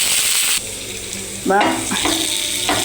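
Okra fries in a pan, giving a close, bright sizzle that drops suddenly, then returns with a few scraping and knocking sounds as it is stirred.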